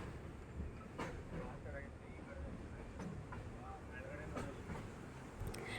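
A night train leaving Yeshwantpur rumbles steadily from inside the carriage, faint and continuous, with soft rhythmic clatter and a low murmur of people in the background.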